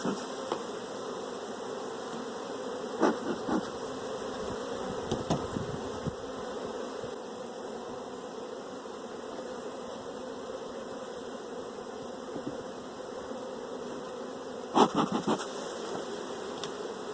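Honey bees from an opened hive colony with a high mite load hum in a dense, continuous buzz up close, with a few brief louder passes of individual bees.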